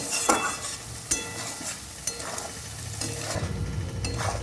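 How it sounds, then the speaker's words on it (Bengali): Masala spice paste sautéing in a pan, a close, even sizzle punctuated by periodic scraping stir strokes every second or so. "মশলাটা ভালো করে কষিয়ে নেব"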